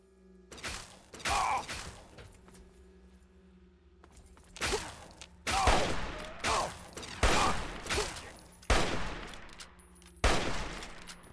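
Enemy gunfire in Fallout 3 comes in sharp, separate bursts with mechanical clatter between them. The shots are fairly loud and irregularly spaced across a quiet background, and no voices are heard.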